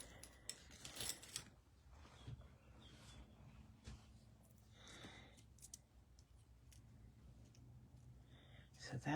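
Scissors snip the squared-off edges of a card stock circle in a few close, sharp clicks, with quiet paper handling between cuts and a faint voice now and then.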